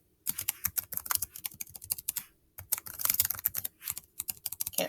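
Rapid bursts of keystrokes on a computer keyboard, clattering in quick uneven runs with a short pause midway, close and clear with no voices.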